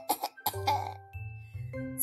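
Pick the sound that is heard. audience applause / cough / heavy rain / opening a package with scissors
cough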